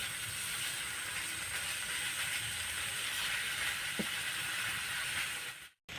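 Spiced minced chicken sizzles in a frying pan, a steady broad hiss that runs almost without change before a brief sharp drop near the end, with no voices.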